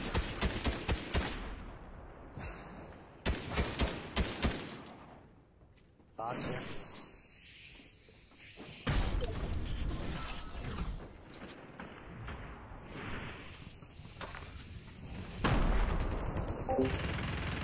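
Rapid gunfire and booming grenade blasts from an online shooter video game, with an AK rifle, shotgun and sniper in play, come in repeated bursts under excited talking.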